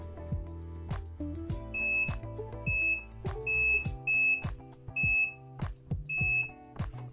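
Short electronic beeps from a multimeter continuity test on DIP switches for a 1989 K1500 speedometer calibration, sounding in quick repeated bursts with clicks and handling noises between them.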